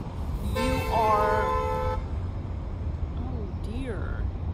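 A car horn honks in one steady blast of about a second and a half amid road traffic rumble, with people talking over the street noise.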